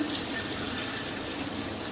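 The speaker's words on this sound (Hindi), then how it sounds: "2 गिलास में मैं पानी डालूँगी" Water poured from a glass into a pressure cooker holding bone-in beef, a steady continuous splashing rush throughout, close and even, with no talk.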